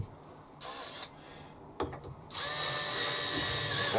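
Cordless drill drives a screw into a shed extension bracket: a brief whir, a pause with a couple of clicks, then a steady loud high-pitched run as the screw goes in, close by with no talk.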